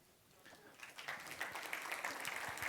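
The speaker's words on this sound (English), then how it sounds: "Big round of applause" A conference crowd claps after a talk on self-healing clusters, the applause starting faint and swelling into a dense, sustained patter of many hands in a large room.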